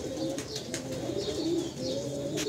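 Teddy breed pigeons, a breeder pair, cooing nearby in a steady, overlapping murmur, with a few faint chirps on top and no talking.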